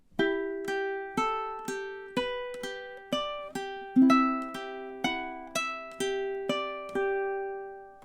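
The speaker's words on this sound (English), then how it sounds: "here's measures 1 and 2 played together." Ukulele plays the opening two measures of a song, plucked notes ringing out one after another in a steady, even rhythm, close and clean with no voices.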